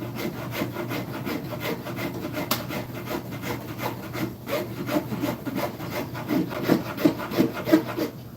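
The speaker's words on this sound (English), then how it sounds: "So I'm cutting up the grain right now. It makes for a rougher cut, but because this is a rasp," Rasp filing a wooden palm swell against the grain, a steady run of close, rough scraping strokes that grow louder and more pronounced toward the end.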